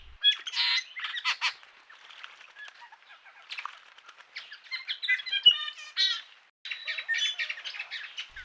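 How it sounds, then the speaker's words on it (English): Mixed birds around a rocky pool, with many chirps, tweets and squawks overlapping in bursts, some near and loud, others fainter, against an otherwise quiet background. "It's really great to pick up all these bird calls and the sounds"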